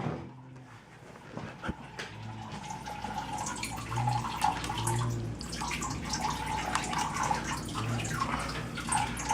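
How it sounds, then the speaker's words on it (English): A reverse-osmosis water filter unit fed from a garden hose runs steadily, giving a continuous wash of flowing, dripping water with a low hum underneath and no talking. "I'll show you how the RO unit's running"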